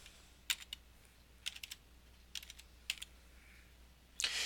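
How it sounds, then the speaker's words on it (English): Quick bursts of computer keyboard typing, close and crisp, as gardening is typed into a search box: short clusters of clicks with gaps between them, ending in a louder rush of keys, with no voices. "Just go in here and we can type in gardening."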